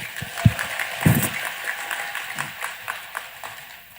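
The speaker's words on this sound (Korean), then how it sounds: "다시 한번 박수하겠습니다." Audience applause at a Korean gathering, a moderate crowd clapping steadily for a few seconds with a couple of louder thumps early on, settling into an even patter.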